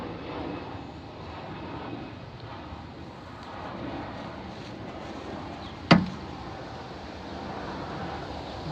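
An airplane drones overhead in a low, steady wash of engine noise, fairly faint and even, broken once by a sharp click or tap partway through.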